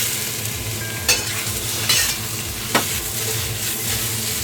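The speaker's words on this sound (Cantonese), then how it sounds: "炒3分零鐘" Pineapple, onion and tri-colour bell peppers stir-fry in a hot wok for sweet and sour pork, a loud continuous sizzle broken by three sharp spatula scrapes and tosses, close up and without talk.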